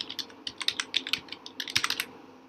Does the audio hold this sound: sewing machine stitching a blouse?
no